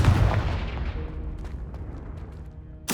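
Confringo spell blast in Hogwarts Legacy on PS5, a loud booming explosion up front that rumbles and decays, followed by a sharp burst near the end.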